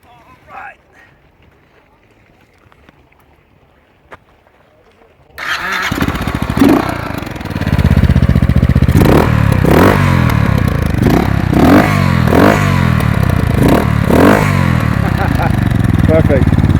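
A Honda Dominator motorcycle engine starts up after a quiet stretch and then runs loud and close, with repeated revs rising and falling over a steady idle.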